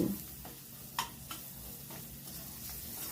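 Spices and chili powder being stirred together in a cooking pan, with soft sizzling from the hot pan and a few light scraping clicks of a spoon, alone with no talk.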